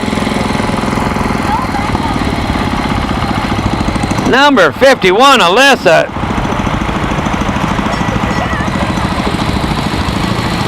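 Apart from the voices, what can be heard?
small International Harvester tractor engine running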